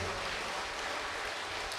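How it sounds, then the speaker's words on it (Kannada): A church congregation clapping hands in praise during adoration at Divine Call Centre, Mulki, a dense continuous wash of many hands applauding at once, loud and steady throughout. "ಚಪ್ಪಾಳೆ ತಟ್ಟಿ ದೇವರಿಗೆ ಸ್ತೋತ್ರ ಮಾಡಿ"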